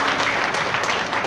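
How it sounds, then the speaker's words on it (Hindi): An audience claps loudly and continuously at an honouring ceremony for householders at Shantivan, a dense wash of applause with no pauses. "अभी आगे उनके लिए भी ज़ोरदार से ताली बजाएं।"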